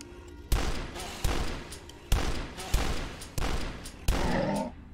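Six heavy shotgun blasts boom out at regular intervals of under a second in a shooter game, each a sharp loud crack with a short rumbling tail, the last followed by a brief grunt.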